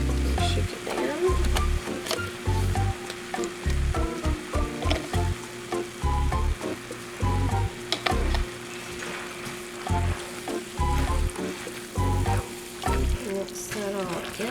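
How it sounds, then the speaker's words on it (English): Barbecue chicken casserole being stirred with a full bottle of Kinder's Honey Hot barbecue sauce, a steady close sizzle and frying hiss with repeated scraping, clacking stir strokes throughout. "Mix that all together."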